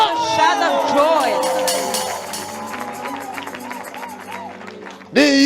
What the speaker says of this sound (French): Shout of joy.